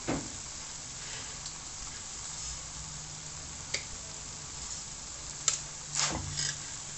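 Dough frying in oil in a home kitchen, a steady soft sizzle running throughout with a few small pops and clicks near the end.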